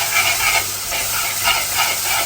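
Fenugreek seeds splutter and sizzle in hot oil in a pan while being stirred, with a steady close frying hiss and soft rhythmic scraping, and no voices.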